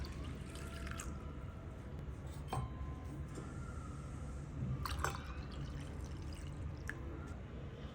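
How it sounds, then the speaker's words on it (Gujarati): Water pours steadily with a soft, continuous rush onto washed dal set to soak, joined by a few light drips and clinks. "તો હવે આપણે એમાં પાણી નાખીને પલાળી દઈશું"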